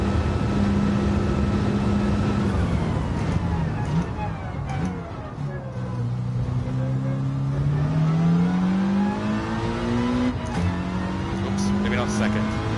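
A Gr.4 race car in Gran Turismo 7 revs hard and shifts up through the gears. The engine tone climbs, drops at each change and climbs again, loud and close, and a voice talks over it.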